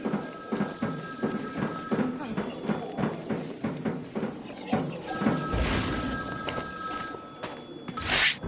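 A telephone rings repeatedly inside the Batman: Arkham City video game, each ring a steady burst against game ambience, with a brief sharp hit near the end.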